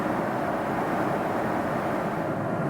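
Cabin of an airliner in flight over the region between Baghdad and Tehran, a loud, steady, broadband engine and air roar that holds constant without a break.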